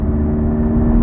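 Mk1 Skoda Fabia vRS with a 1.9 TDI diesel revving hard, a steady, loud mid-pitched engine drone with a strong harmonic whine holding evenly throughout, no talk.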